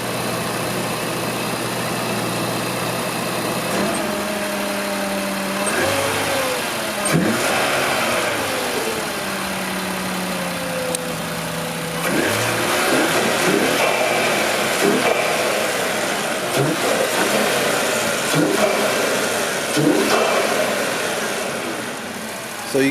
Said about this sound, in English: You can hear the turbo already with the intake.